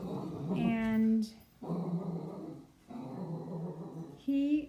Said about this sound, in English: that's just the doggy protecting us